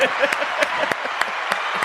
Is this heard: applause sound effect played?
yes